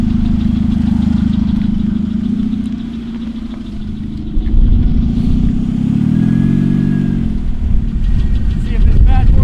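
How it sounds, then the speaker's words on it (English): A car engine runs steadily at idle with a low rumble and a rising, squealing belt-slip whine, loud and close, with people talking over it. "I'm not sure what that weird belt slipping kind of sound is, but there it is."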